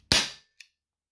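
A single sharp crack from a Colt Python 6 inch airsoft revolver firing a 0.20 gram plastic BB, followed by a short quiet tick a moment later.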